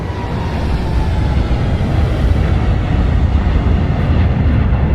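Steady, loud aircraft engine roar heard from outside the plane in a flight simulator sound pack, a dense continuous rumble that holds evenly for the whole stretch with no voices.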